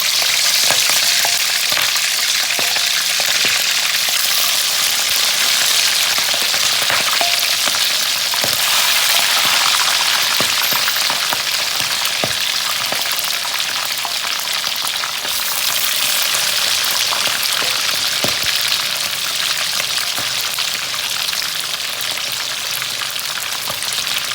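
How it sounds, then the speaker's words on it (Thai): Shrimp heads fry in hot oil with a loud, dense, continuous crackle and sizzle, close up and unbroken, with no voices. "เราจะทอดส่วนหัวกุ้งก่อนนะครับ"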